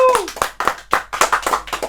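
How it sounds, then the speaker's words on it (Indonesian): A small studio audience claps hands in short uneven bursts, close and fairly loud, with a voice briefly audible at the start. "Tepuk tangan dong"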